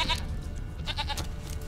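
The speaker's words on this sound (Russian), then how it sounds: "Бедная козочка." A goat bleats in The Witcher 3, several wavering cries in short bursts, clear and close over a low game backdrop, with no speech.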